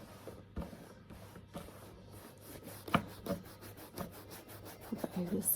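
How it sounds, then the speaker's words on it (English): A cleaning mitt rubs over a Mulberry Alexa leather handbag in a string of soft, close, quiet brushing strokes with a fairly regular rhythm. "So I'm using my little mitt, so I'm going to rub over it"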